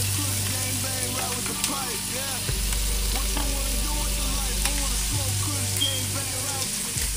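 Butter melts and sizzles in a frying pan, a close, dense crackle that runs on without a break and swells twice, with soft stirring noises and no talk.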